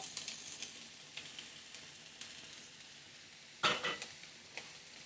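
Garlic cloves and shallots sizzle in hot oil in a pan, a steady faint crackle with scattered pops and one louder burst of spitting near the end.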